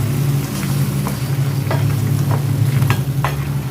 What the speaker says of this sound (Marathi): यामध्ये आपण टोमॅटोचं अगदी बारीक वाटून ठेवलेलं वाटण घालूयात